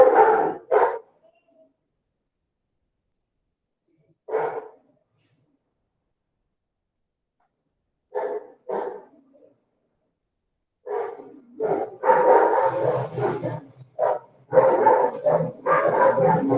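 Dogs bark in short bursts, first single sharp barks with long pauses, then a rapid, overlapping flurry of yips and barks close by.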